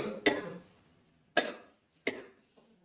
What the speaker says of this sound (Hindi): मुझे थोड़ी सी खांसी है